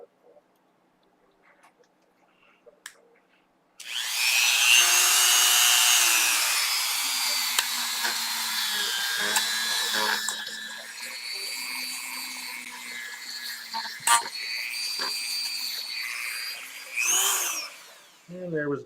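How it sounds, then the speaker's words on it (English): A Dremel rotary tool with a brush attachment cleans dust from the cavity of an old 1986 Kramer Focus 2000 electric guitar being rebuilt. It makes a close, high buzzing whir that scrubs and changes pitch for about fourteen seconds before stopping, with brief scrapes and clicks. "Get the Dremel."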